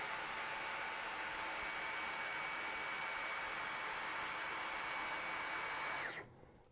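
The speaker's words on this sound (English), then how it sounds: "Here comes Eco mode on the Gen5." A Dyson Gen5 vacuum cleaner runs in Eco mode with a steady, even whine and airflow hiss, then cuts off near the end and fades quickly.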